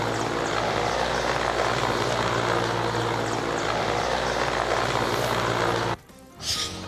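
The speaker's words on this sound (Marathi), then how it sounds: "आकाशात उडणारं हे हेलिकॉप्टर अचानक धुरात गायब होताना या व्हिडिओत स्पष्ट दिसतं" A military helicopter flies overhead just before crashing, its rotor and engine roaring loud and steady for about six seconds before the sound drops off abruptly, followed by a brief swell.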